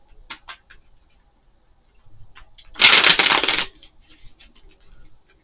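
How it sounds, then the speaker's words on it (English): A deck of tarot cards is riffled in one quick, dense burst, preceded and followed by a few light clicks and taps of handling, close by. "let's do one more shuffle"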